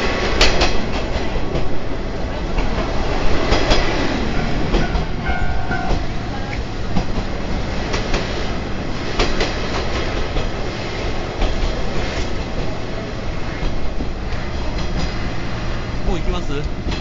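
Watarase Keikoku Railway trolley train running through a valley, loud continuous rumble and rhythmic clickety-clack of wheels on rails with occasional squeals, heard from on board with voices underneath.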